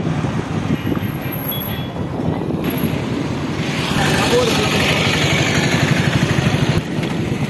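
Motorcycle idling at a petrol pump, a steady close engine rumble with passing traffic and a rising roar partway through, while people talk.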